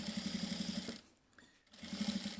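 Sewing machine running a safety stitch around the edge of a leather passport wallet: a rapid, close mechanical chatter, pausing briefly mid-clip, then resuming.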